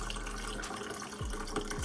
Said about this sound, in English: let me pour this, spilling moderately as I go